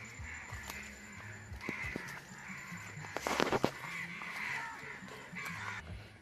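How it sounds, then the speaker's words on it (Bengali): Harsh cawing calls from birds repeat across a Sundarbans forest, with a louder burst in the middle, set against steady rustling ambience. "ওই যে পাখিগুলো ডাকছে ওখানে"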